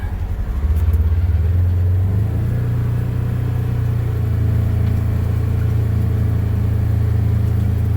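A Polaris Ranger Northstar utility vehicle drives in low gear on rural land, its engine a steady, loud, close rumble that swells slightly just after the start and then holds an even drone.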